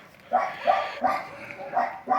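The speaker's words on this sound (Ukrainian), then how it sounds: "Вибачайте, пси гавкають." Several evenly spaced barks from dogs outside, about five sharp woofs in a steady rhythm, moderately distant with no talking over them.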